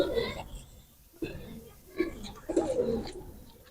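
Golden teddy pigeon chicks coo in soft, low, intermittent bursts close by, with brief rustles between calls.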